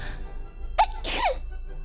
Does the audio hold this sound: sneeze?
yes